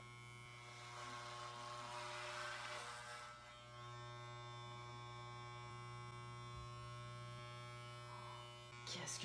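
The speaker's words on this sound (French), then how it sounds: "Voici quelques extraits de la petite folie que j'ai eue de me raser les cheveux." Electric clippers buzz continuously while shaving hair off a head, a close steady drone that dips briefly midway and ends abruptly with a short clatter.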